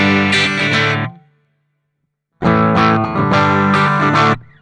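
Electric guitar with a 4.7 nanofarad capacitor wired in parallel and the tone control all the way off, giving a dark, distorted tone. Two strummed chord bursts are separated by a short silence, loud and close with no voice.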